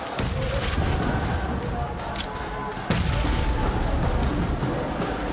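Grenade blasts in a PUBG Mobile esports match: loud, dense rumbling explosions and crackling gunfire roll on continuously, with a sharp new blast midway and heavy booming throughout.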